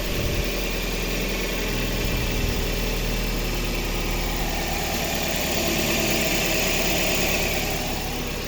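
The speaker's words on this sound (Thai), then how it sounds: "ตอนนี้ผมสตาร์ทเครื่องแล้วครับ ตอนนี้เครื่องยนต์ทำงานแล้วนะครับ" A 2005 Toyota Soluna Vios with automatic transmission idles steadily and evenly, a continuous low rumble with a faint mechanical vibration, close by and unbroken with no voices.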